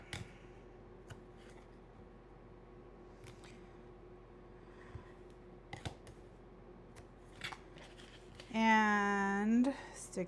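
Scissors snip paper for a steampunk mini album. Scattered faint cuts sit among quiet handling noises, and a voice is briefly heard near the end.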